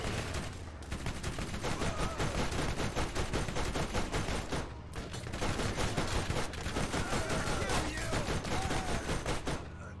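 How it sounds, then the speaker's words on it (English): Dense, continuous rapid gunfire while shooting enemies in Borderlands, a loud sustained rattle of shots with a couple of brief pauses, and a faint voice in the background. "I'll just shoot all of them."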